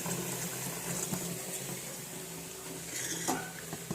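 Hot water is poured off from a cooking pot in a home kitchen, a close splashing flow with light clinks of metal against metal.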